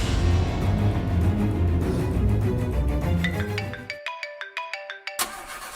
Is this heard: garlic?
no